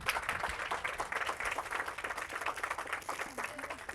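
Applause from an audience at a group workshop session, a steady patter of many hands clapping at moderate level for about four seconds, with some voices mixed in.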